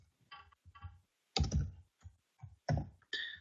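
A computer keyboard clicks close by as keys are pressed for a cut-and-paste, giving short bursts of fairly faint tapping separated by brief pauses.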